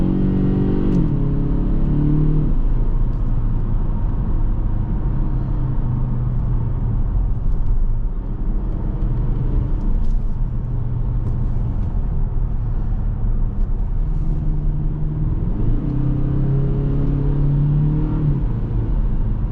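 The turbocharged four-cylinder engine of a 2023 Kia Stinger GT-Line is heard from inside the car as it accelerates through the rev range, a steady loud drone with pitch climbing at the start and again near the end.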